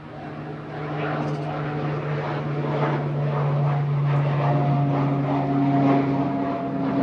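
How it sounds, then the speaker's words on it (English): A Pilatus PC-12 single-engine turboprop departing Manchester Airport, its steady propeller drone holding loud and continuous with a sustained tonal hum throughout. "It's a Pilatus PC-12."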